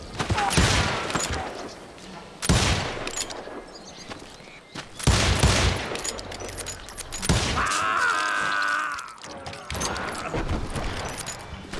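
Gunfire bursts out in the Western shooter Call of Juarez Gunslinger, with loud repeated volleys of shots and brief gaps between them, a chaotic firefight that rings on in metallic echoes.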